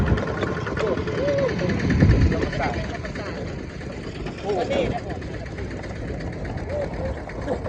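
A farm tractor engine chugs with a steady rhythmic knock during a ride through countryside past rice fields. People talk over the engine throughout.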